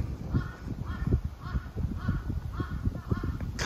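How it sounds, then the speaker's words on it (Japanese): Crows cawing outdoors near a shrine entrance in Sendai, Miyagi, a faint string of repeated harsh calls in a steady rhythm over low rumbling ambient noise. "カラスが笑ってます。"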